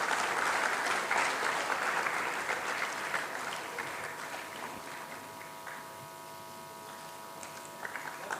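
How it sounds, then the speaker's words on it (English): At a cardiology conference, an audience applauds the chairman of a heart foundation with a full round of clapping that gradually thins and fades, while a faint steady tone runs underneath. "Please give a big round of applause."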